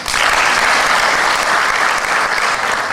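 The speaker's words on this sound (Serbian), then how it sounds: "Pozdravimo ga velikim aplauzom." A crowd at a political party's celebration gives a speaker a dense, steady round of applause that stays loud and unbroken throughout, with no voices rising above it.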